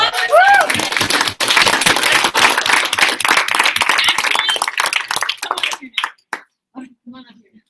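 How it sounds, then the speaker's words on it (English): Audience applause and clapping fill most of the stretch with dense, close clapping and some cheering, tapering into scattered final claps near the end. "Round of applause."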